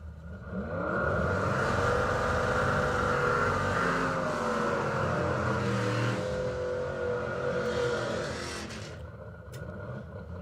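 Drag racing cars, a Camaro and a 100E, roar on the strip with a loud sustained engine drone whose pitch sweeps as they rev and accelerate, then fades toward the end, heard from trackside.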